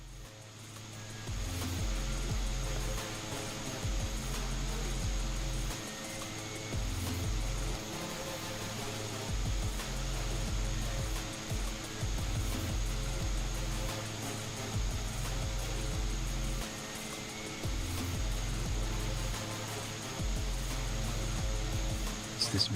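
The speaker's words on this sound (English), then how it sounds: "It's a default turboprop sound, so it just sounds like a buzzsaw with a hairdryer attached to it." The default turboprop engine of a Cessna 408 SkyCourier in Microsoft Flight Simulator 2024 drones steadily, a buzzing, whining hum with a constant high tone and low rumble running unbroken throughout.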